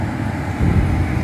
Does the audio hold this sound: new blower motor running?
yes